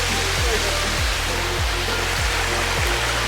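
A waterfall flows among ice at Hogback Creek in the snowy Eastern Sierras near Mt. Whitney, a loud, steady broadband rush of water with faint low thumps recurring roughly every half second.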